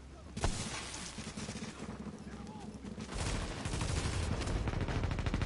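Sniper rifle fire in The Division, a dense run of gunshots and blasts that grows louder and heavier in the second half, with a voice speaking underneath.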